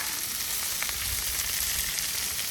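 New York strip steaks sizzle steadily on a Blackstone griddle, a loud, continuous hiss and crackle with no pauses and no talk.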